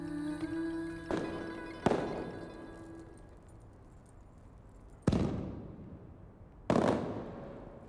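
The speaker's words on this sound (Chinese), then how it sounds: "媚娘，陪朕出去看烟花。" Fireworks bursting outdoors at night, sharp cracking bangs at irregular intervals, each blast followed by a long fading crackle and rumble, with a steady tone under the first burst.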